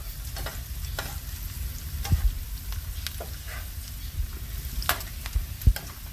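Breakfast potatoes frying in a pan give a close, crackling sizzle with scattered sharp pops and a few utensil knocks, steady throughout with no voices.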